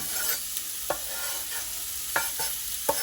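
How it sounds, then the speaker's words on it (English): Onions cooking in a pan make a soft, steady sizzle broken by several sharp scrapes and taps of a utensil stirring them, spaced irregularly and heard close with no speech. "let's put in some onions so they can start to get cooked"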